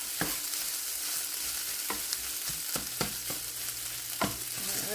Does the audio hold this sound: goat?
no